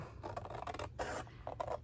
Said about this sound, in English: These long scissors help.